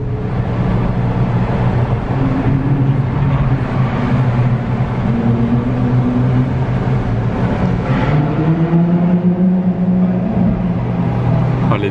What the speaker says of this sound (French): Le bruit quand les valves s'ouvrent.